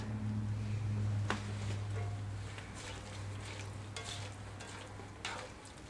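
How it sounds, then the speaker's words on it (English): Onions and peppers sizzle steadily in a hot cast iron pan, with occasional stirring scrapes and a low hum running underneath throughout. "now we're cooking up the onions with peppers in it"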